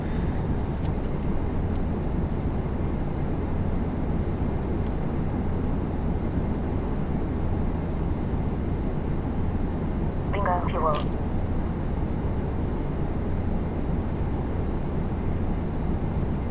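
Steady droning engine of a small plane in flight within a flight simulator over a national park, a constant loud hum throughout with a brief faint chirp near the end.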